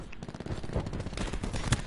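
Rapid gunfire in a first-person shooter game rattles through a dense game mix, building to a sharp, loud burst at the very end.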